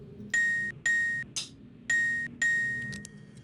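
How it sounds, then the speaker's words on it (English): In the game Myst II: Riven, two bright bell chimes, a short sharp knock like a stick on a rim, then two more ringing chimes, clear and close. "So 2 bells, then a sort of like a drumstick hitting the rim sound, then 2 more bells."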